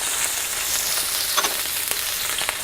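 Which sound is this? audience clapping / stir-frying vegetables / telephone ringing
stir-frying vegetables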